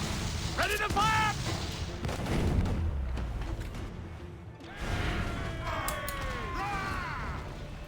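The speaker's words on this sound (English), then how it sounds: "Boom! Full broadside. Ready to fire!" A pirate ship's cannons fire a broadside during a naval battle in Assassin's Creed IV: Black Flag, with heavy booms and crashing timber amid creaking wood, wind and shouted crew voices.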